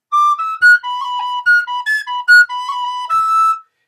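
A tin whistle plays a lively Irish reel alone, bright clear notes in quick rhythmic phrases with crisp tongued beat notes and short ornamented rolls.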